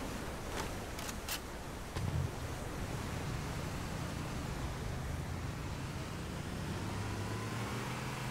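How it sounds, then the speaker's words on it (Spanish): A waterfall in the video game Halo: Combat Evolved gives a continuous, dense rushing roar of falling water that stays steady and broad, with a few faint clicks early on and a low hum entering later. "Simplemente una cascada."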